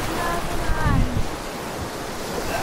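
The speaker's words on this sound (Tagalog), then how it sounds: "Ah, lakas ng alon." Waves surging at Laki Beach in Mariveles, Bataan, heard as a steady roar of surf and rushing water mixed with wind buffeting the microphone, with a brief voice breaking in near the start.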